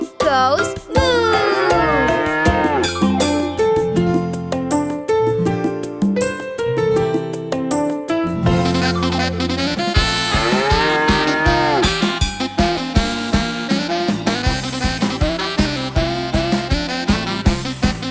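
A cow moos in a children's animated song about a farm cow, loud and drawn out over bright cartoon music with a sung melody.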